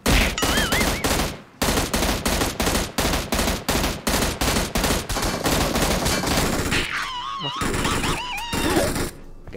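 M16 rifle fire in PUBG Mobile, loud rapid bursts of close gunshots in quick repeated volleys, with a short pause and then more sustained firing.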